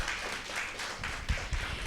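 Audience applause at a televised health show, a brief burst of dense clapping from a crowd, moderately loud and continuous for under two seconds.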